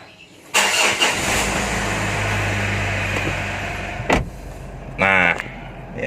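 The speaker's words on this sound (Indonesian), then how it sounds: "Jadi kita hidupkan terlebih dahulu ya guys ya." An automatic Mitsubishi Pajero's engine cranks and catches, then settles into a steady close idle, with a couple of short electronic chimes near the end.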